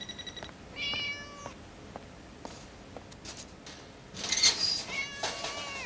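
A cat meows in a few short, distinct calls, with a louder cluster of cries near the end. There are brief soft taps and pauses between them, and the calls are close and clear.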